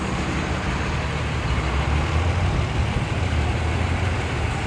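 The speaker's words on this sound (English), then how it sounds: "Didn't get hit by the bus, so that's good." A city bus rolls past on West Victoria Avenue in Regina, a steady loud low engine rumble with road noise sustained throughout at close range, no talking.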